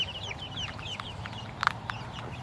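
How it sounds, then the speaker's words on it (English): Chickens bought from a farm supply store cluck and chirp close by in a yard, with a few sharper calls standing out over a steady low background of farm noise. "We got all these chickens from Tractor Supply."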